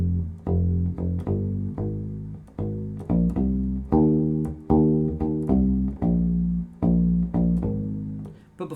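A U-Bass plays a bass line, a series of plucked notes in a steady repeating rhythm, close and clear with no voices.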